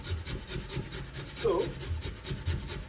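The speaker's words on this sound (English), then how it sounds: "I'm grating this potato." A sweet potato is rubbed against a grater in a home kitchen, making repeated rasping strokes in a steady rhythm, close and moderately loud, with a brief spoken word partway through.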